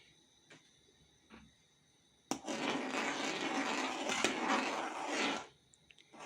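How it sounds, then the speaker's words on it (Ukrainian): Cherry sauce with starch stirred in a pot, a steady scraping and churning rasp that starts abruptly and runs for about three seconds before stopping, fairly close, with a few light knocks before it. "Все перемішаю."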